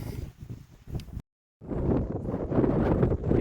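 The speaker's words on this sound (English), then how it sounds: "It's so windy!" Strong wind buffets the microphone on an outdoor walk, a steady rumbling roar with gusts, broken by about a third of a second of dead silence before the blowing returns louder and more constant.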